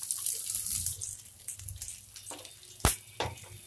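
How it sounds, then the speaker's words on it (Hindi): Cabbage and other vegetables hit hot oil for Hakka noodles, giving a steady close sizzle with a few sharp clanks of a utensil against the pan. "ऑयल गर्म हो गया है, अब हम वेजिटेबल फ्राई करते हैं।"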